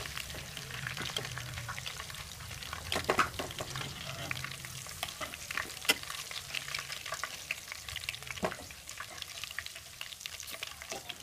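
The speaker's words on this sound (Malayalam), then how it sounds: "ഇതുപോലെ ബാക്കിയുള്ള ചിക്കൻ കൂടെ ഫ്രൈ ചെയ്യണം." Chicken pieces frying in hot oil in a pan for Malabar chicken biryani, a steady crackling sizzle with scattered louder pops and a few stirring clatters, close and continuous throughout.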